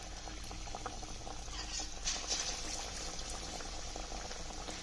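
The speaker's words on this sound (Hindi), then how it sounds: "तो ऑयल को अच्छे से गर्म होने के बाद हमें ये कोटिंग किए हुए पनीर के जो स्लाइस है उनको हमें डालते जाना है।" Batter-coated paneer slices for pakoras fry in hot oil, a quiet, steady bubbling hiss that holds evenly throughout with no talking.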